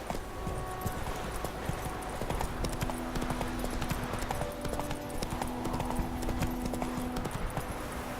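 Horse hooves clip-clop steadily at a brisk trot in The Witcher 3, with a continuous close rhythm over a faint game soundtrack and background ambience.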